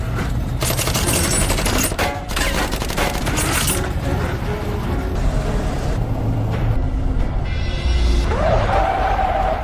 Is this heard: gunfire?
yes